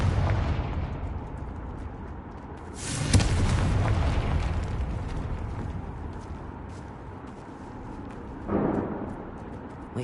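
Blasting spell explosion in the Hogwarts Legacy video game: a sharp burst near 3 seconds over a dense rumbling background, followed by a second, smaller blast near 8.5 seconds.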